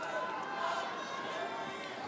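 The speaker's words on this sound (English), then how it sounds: "Many in the crowd murmuring." A tennis crowd at the Australian Open final murmurs steadily, a dense continuous hum of many voices in a large arena, fairly soft and without a break.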